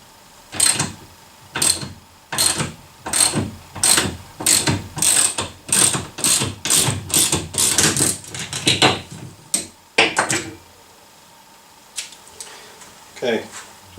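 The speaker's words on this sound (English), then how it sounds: "I'm just going to pull that bearing off" A bearing puller works the main motor bearing off a Bosch Performance Line CX e-bike motor with a worn-out bearing, giving a loud run of regular ratcheting clicks, about two per second, that slows, stops, then resumes with a few scattered clicks.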